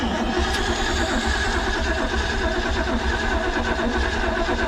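Classic Ford Bronco with a 302 V8, a farm find soaked with diesel, cranks steadily without catching, a continuous low rumbling churn held close and loud for the whole stretch.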